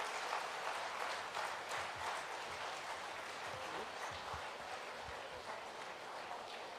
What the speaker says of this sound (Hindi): सबसे अनुरोध है जोरदार तालियां बजा करके